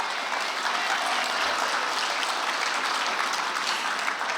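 An audience at a Florida Sports Hall of Fame enshrinement ceremony applauds steadily, a dense, even wash of clapping and cheering that holds at a constant level throughout.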